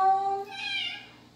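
A single drawn-out meow, rising then falling in pitch over about a second. It sounds like a voice imitating a cat rather than a real animal.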